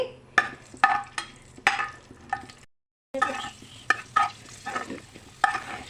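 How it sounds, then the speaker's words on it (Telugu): Raisins and cashews fry in ghee, with sharp, rhythmic clacks of a spoon stirring against the pan over a soft sizzle, close by, broken by one short pause. "నెయ్యి అండి ఫస్ట్ కిస్మిస్లు జీడిపప్పు ఫ్రై చేసుకోవాలండి"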